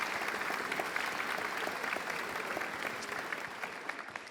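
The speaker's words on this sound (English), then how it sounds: "Please give a warm round of applause to our audience," An audience applauds a panel at the close of a government mission delivery session, a dense sustained clapping from a sizeable crowd that holds steady and slowly fades over about four seconds.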